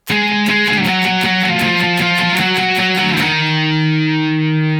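A distorted electric guitar plays a quick run of picked lead notes from a song at the end of the chorus, then lands on a held chord that rings out and sustains.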